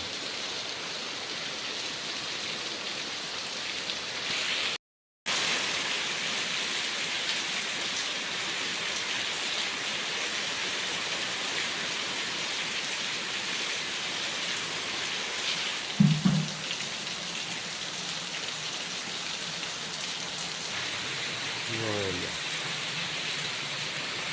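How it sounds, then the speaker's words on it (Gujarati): Heavy night rain pours steadily over a flooding farm in a dense, continuous hiss, with a brief dropout and a couple of faint thumps partway through. "ઓહો હો, બહુ વરસાદ પડે છે."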